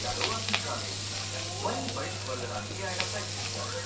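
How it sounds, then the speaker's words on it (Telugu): Potato and pea curry sizzles in a pan while a spoon scrapes and stirs it in several short strokes. The sound is close and moderate, with a low steady hum underneath. "ఒకసారి మొత్తం కలుపుకోవాలి"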